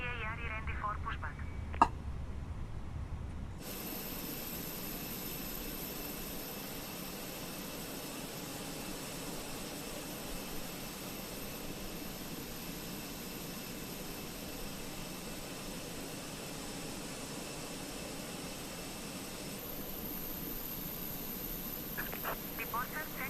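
Aircraft engines hum steadily at pushback in Microsoft Flight Simulator 2020, a constant broadband whine with high tones lasting most of the clip, after a brief quieter opening with a short click.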